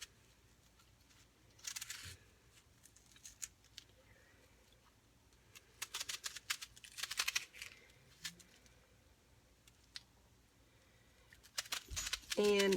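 A knife dices half of a large onion on a cutting board, making faint clusters of quick, sharp taps separated by quiet pauses.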